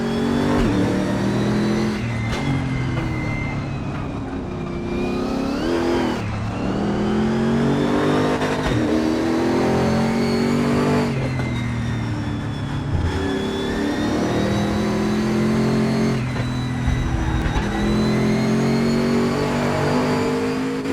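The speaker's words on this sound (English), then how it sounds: "have a listen to this engine" A race car engine in a sim racing video game revs hard and continuously, climbing and dropping through repeated gear changes, loud and close with no talking.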